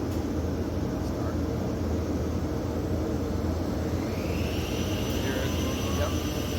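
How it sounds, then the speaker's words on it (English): Motors on a SCMI Olimpic K 560 T-E edgebander spin up into a steady, broad whirring roar, with a rising whine emerging near the end, heard close and continuous. "That'll get the motor starting, you'll hear them."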